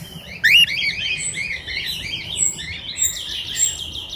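Birds being fed while perched on a person's shoulders give bright, rapid chirps and squeaky tweets, loud and close, in a steady run of repeated calls over a quiet background.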